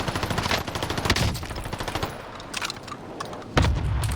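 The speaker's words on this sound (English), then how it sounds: "I get a couple shots in on the second guy, and I have 3 bullets left on my STG." STG assault rifle fire in a video game, a loud, rapid automatic stream of close shots that thins slightly midway before a heavier burst resumes near the end.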